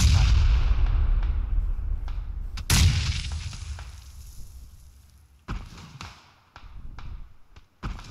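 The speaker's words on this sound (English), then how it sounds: "I'm taking fire from everyone." Gunfire crackles in an online squad shooter, with a booming blast, scattered sharp shots near and far, and a few thumps over a low rumble.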